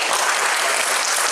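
A hypnotist show audience gives a brief, dense round of applause, a loud continuous wash of many hands clapping, steady throughout with no voices heard over it.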